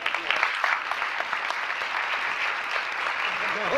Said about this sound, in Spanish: Un aplauso para Nel.